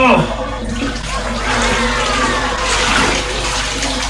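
Water splashes and sloshes as a person climbs out of an ice bath for cold therapy recovery, a steady wet churning lasting throughout, close and fairly loud.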